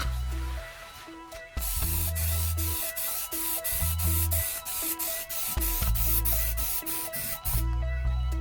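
Golf GTI parts are spray painted in a makeshift spray booth, with loud bursts of spray hiss in repeated passes, separated by brief pauses and a low mechanical hum.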